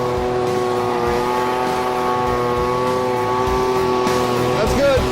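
A gas-powered leaf blower drones steadily and loudly while clearing garden beds, its engine holding an even, sustained whine throughout, with a brief pitch shift near the end.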